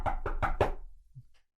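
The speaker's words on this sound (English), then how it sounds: "And you are awoken to the sound of knocking at the door." Four quick, sharp knocks at a door, close and loud, in an evenly spaced run, followed by a faint trailing sound and then silence.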